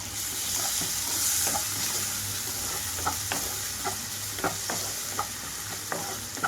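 Chopped tomato fries in a pan of masala for stuffed tindora curry, a steady close sizzle with a low hum and regular light scrapes of a spoon stirring.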